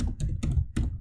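Python code is typed on a computer keyboard, three or four quick clustered bursts of close key clicks with short gaps between them.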